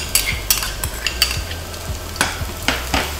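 Garlic hits hot oil in a pan while a Korean fried chicken sauce is started, with a steady close sizzle broken by repeated metal spatula scrapes and knocks in an uneven rhythm.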